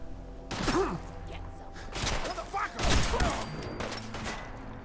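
Gunfire aimed at the player in the VR game Fallout 4: a few loud bursts and sharp cracks arrive in separate clusters against a busy game background.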